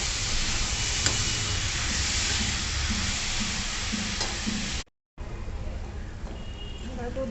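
Grated bottle gourd tossed with turmeric sautéing in a pan for a zunka, a loud dense sizzle and hiss running continuously, cut by a brief silent gap before resuming slightly quieter.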